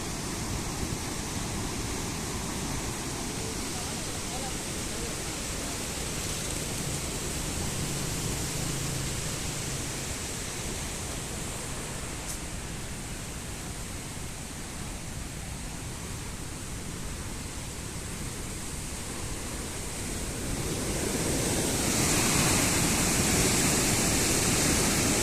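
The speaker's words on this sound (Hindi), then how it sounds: "पानी फुल जोश है जी" Full, powerful rush of Sindh River floodwater, a steady broadband roar close by that swells louder and brighter toward the end, with no voices over it.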